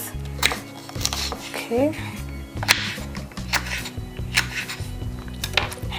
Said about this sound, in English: I'm simply going to little slice this